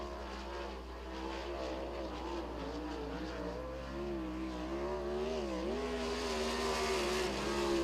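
The Easy Go number 44 race car out of Hanover, driven by Dylan Norris, laps Lincoln Speedway, its engine pitch rising and falling steadily over a low hum without talk.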